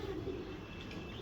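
Domestic pigeons coo softly in a loft, a low, steady murmur held at a faint level for a brief moment with no voices.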